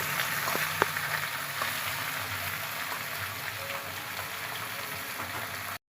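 Fish sizzling in hot oil in a home kitchen pan, a steady bright crackling hiss running throughout at moderate loudness with a couple of faint clinks near the start.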